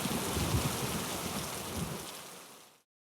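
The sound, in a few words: heavy rain falling, audiobook sound effect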